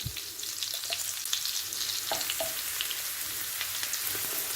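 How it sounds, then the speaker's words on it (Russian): Onion and hot pepper fry with salt in a pan, giving a continuous close sizzle with a few faint stirring knocks. "Все вместе обжариваем, пока лук не станет прозрачным, мягким."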